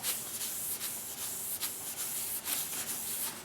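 Festool Rotex RO 150 sander buffing wood to a polish: a faint, continuous rubbing and scuffing with light rhythmic swishes, steady throughout, close by with no talking.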